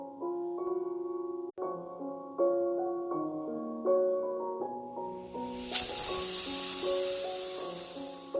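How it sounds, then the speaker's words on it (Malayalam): A pressure cooker boiling potatoes bursts into a loud, steady rushing hiss of steam partway through, rising over soft background music and continuing to the end. "ഇപ്പം നമ്മുടെ കുക്കറിന് 2 വിസിലോളം വന്നു."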